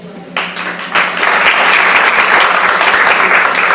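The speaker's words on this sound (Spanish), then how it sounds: "Entonces, un aplauso para ellos." Audience applause at a public talk on social management and ethnic perspectives swells quickly into steady, dense clapping from a large crowd, loud and continuous, with no one speaking over it.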